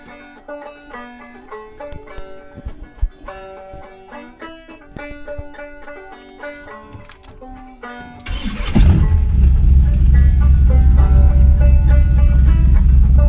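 A car engine, about to have its timing set with a timing light, cranks with a run of uneven starter clicks and whirs before catching and settling into a loud, steady running rumble close by.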